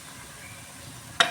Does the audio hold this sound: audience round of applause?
no